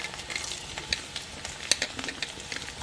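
Vegetables for Bengali shukto frying in a pan: a soft, constant sizzle with light crackles and occasional faint stirring ticks.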